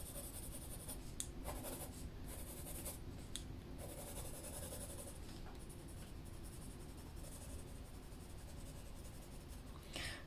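Colored pencil scratches and rubs across paper in light, layered strokes, a steady soft rasp with brief lifts and pauses, recorded up close with no talking.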